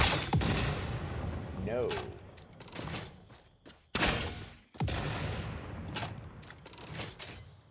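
Nobelisk explosives detonating in Satisfactory, several loud booming blasts with rumbling decay, one early and a sharp pair near the middle, while a voice speaks briefly between them.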